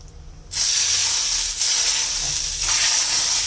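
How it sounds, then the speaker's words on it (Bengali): Cumin seeds hit hot oil for a tempering and burst into a loud, sudden hissing sizzle that continues steadily, with a couple of fresh surges as more goes into the pan. "এবার দিয়ে দিলাম জিরে। এবার হয়ে গেছে, ফোড়নটা দিয়ে দেব।"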